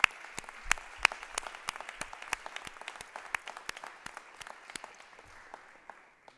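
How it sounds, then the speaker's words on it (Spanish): Applause from a conference audience in Coimbra honoring journalism students from the Associação Académica de Coimbra television station, a moderately distant room of claps with sharp individual hand strikes standing out, tapering off over about six seconds. "Uma salva de palmas para eles."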